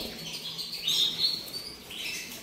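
A small caged songbird gives several short, high chirps and tweets, faint and fairly close, in a brief quiet stretch with no talking.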